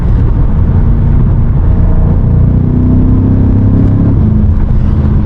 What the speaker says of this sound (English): We're just gonna be showing you guys how the car sounds